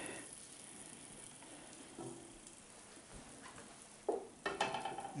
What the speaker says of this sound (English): Swirl it all around with your wooden spoon,